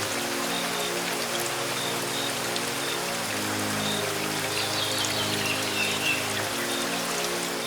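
Heavy rain pours down steadily throughout a Hindi cartoon story about a poor vegetable seller, a dense continuous patter alongside sustained background music.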